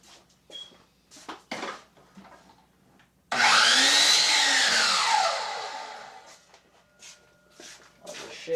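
A power tool, likely a saw, cuts a wooden piece for a honeybee hive roof in one loud burst of about two seconds that sweeps in pitch and then winds down, with talk before and after.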